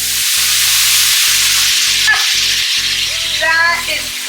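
Pan of cooked onions and pork loudly sizzling as alcohol is poured in to deglaze, a bright, continuous hiss heard close up with faint stirring scrapes and a brief flare near the end.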